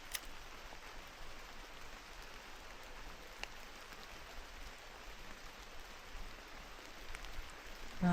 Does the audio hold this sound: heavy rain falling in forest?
yes